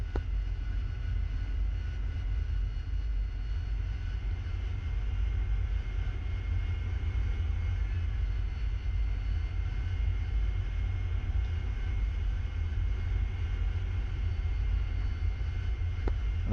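Jet aircraft in the DCS flight simulator taxiing out for departure, a steady low engine rumble with a constant whine above it, unbroken and even for the whole stretch.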